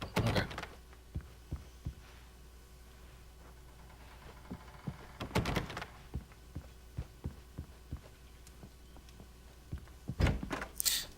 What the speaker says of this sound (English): That actually sounds like the same door sound effect